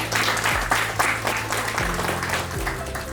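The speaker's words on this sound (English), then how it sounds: "if you've made it today, please give yourselves a round of applause" Applause from contestants and audience at The Pitch, a startup pitch event in Coimbatore, a brief, dense burst of clapping with a low hum underneath.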